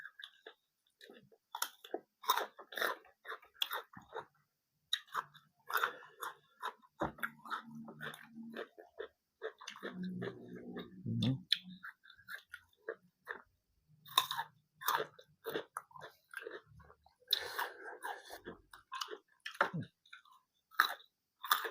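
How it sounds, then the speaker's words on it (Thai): Grilled pork belly skin being chewed close up, with repeated crunchy, moist bites and chewing bursts over about twenty seconds, unhurried and irregular, with no talking. "เคี้ยวหนังอยู่"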